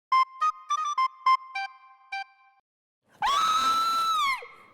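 A person lets out a single loud, sustained scream lasting about a second, preceded by a series of short electronic tones, close and alone without talk.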